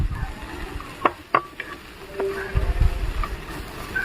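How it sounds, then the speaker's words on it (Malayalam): Cabbage and carrot sautéing in a pan, stirred with a utensil: sharp scraping clicks and taps against the pan over a soft sizzle, with a busier burst of stirring near the end. "നമ്മളിങ്ങനെ നന്നായിട്ട് ഒന്ന് ഇളക്കി കൊടുക്കുക"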